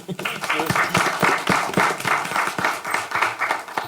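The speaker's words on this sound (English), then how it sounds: "Now we can give them a round of applause." Applause from the audience at a city council meeting, a steady patter of many hands clapping at close range that swells and dips over a few seconds, with no talk over it.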